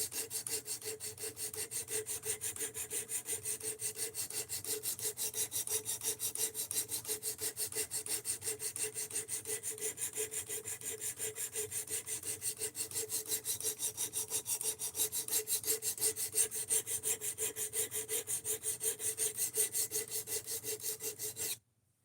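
A knife edge stroked back and forth across grit stones in a fixed-angle sharpening system, a dense, even rasping scrape repeated in rapid steady strokes, close and continuous before stopping abruptly.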